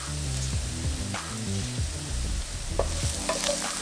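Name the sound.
garlic sautéing with caramelized onions in a pan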